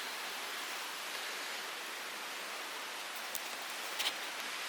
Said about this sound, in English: It's just nice here with this little stream by us.